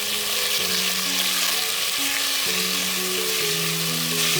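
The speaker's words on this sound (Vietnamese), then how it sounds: "Mình xào cà chua trên lửa lớn nhé." Tomatoes stir-fry in fried shallot oil over high heat in a pot, a loud continuous sizzle steady throughout, with a faint low tonal hum underneath and no talking.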